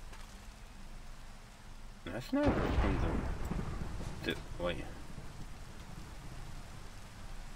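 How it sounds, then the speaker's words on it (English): Steady Minecraft rain hisses as an even wash through the whole stretch, with a person talking over it partway through. "I didn't even escape the rain like I was going to"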